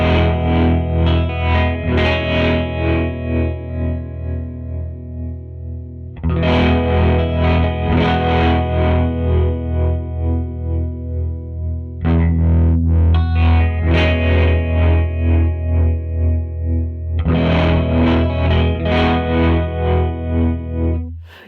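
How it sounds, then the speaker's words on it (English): Distorted electric guitar plays sustained chords in repeating phrases, with a gentle swirling chorus shimmer from a Catalinbread Tremolo8 pedal placed before the amp's drive, mellowing the chorus. The playing is loud and close. "since I put this like before the drive of the dirty amp, it really mellows the chorus a lot"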